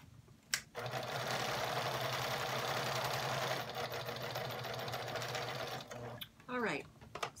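A sewing machine stitches quilt pieces together in a steady, fast mechanical whir lasting several seconds, stopping briefly and then resuming, with a few clicks and handling noises around it.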